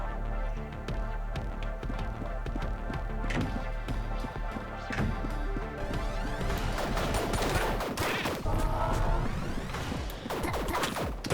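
Plasma blaster fire from the ANNO: Mutationem video game rings out as a dense run of sharp shots and crashing impacts over steady game music, growing busier and louder toward the end.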